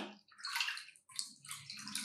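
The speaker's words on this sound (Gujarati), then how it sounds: "જાડા તળિયાવાળી કડાઈ કે તપેલી લેવાની અને એમાં ત્રણ વાટકી પાણી ઉમેરવાનું છે" Water splashes and gurgles into a heavy-bottomed pan in a home kitchen, two short pours separated by a brief pause, quiet and close with no talking.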